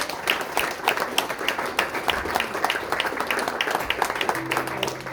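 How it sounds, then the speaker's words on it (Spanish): A church congregation claps steadily after the preacher calls for applause to the Lord, a dense patter of many hands filling the whole stretch at moderate volume, with a low hum entering near the end. "Damos un fuerte aplauso al Señor."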